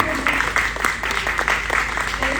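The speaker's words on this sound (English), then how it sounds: "Let's give a round of applause to Ray." An audience applauds after a talk at the Ubud Writers Festival, a dense steady patter of many hands clapping at moderate distance, with no speech over it.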